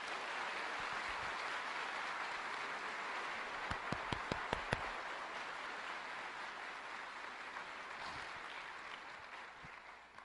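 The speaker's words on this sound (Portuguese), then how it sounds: "das palmas, como forma de agradecimento que nesse momento nós levantamos" A church congregation applauds in thanks, a steady wash of many hands clapping throughout, with a few sharper, louder claps standing out partway through.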